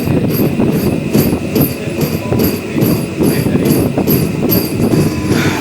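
A MEMU passenger train running on the Rajahmundry to Bhimavaram line, with loud rhythmic wheel clatter and repeated clacking over rail joints, heard close from inside the train.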